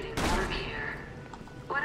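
Gunfire at robots in Resident Evil 6, heard as a loud burst of shots right at the start and then a fading tail, with a voice talking over it.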